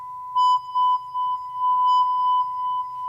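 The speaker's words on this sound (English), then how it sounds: "that was some delay and reverb." A synthesizer tone processed with delay and reverb comes as a run of pulsing beeps. Each repeat echoes and blurs into the next before the sound settles into a smeared, sustained tail.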